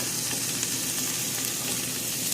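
Beaten eggs seasoned with salt and pepper sizzle steadily in a pan for an omelette, a dense continuous frying hiss with faint stirring, close and fairly loud, no voices.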